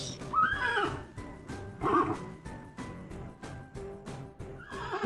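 A horse whinnies in a farm setting, fairly faint shaky calls that rise and fall over a few seconds, with a dog's bark and scattered noises mixed in.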